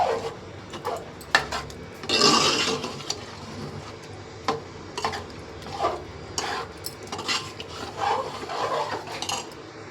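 Pav bhaji vegetables, cauliflower and potato, being mixed and mashed in a pan, with scraping and rubbing strokes of a utensil in an irregular rhythm, one louder burst early on, close by and without talk.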